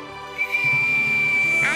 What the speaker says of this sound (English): If we whistle, we can make the stars jingle.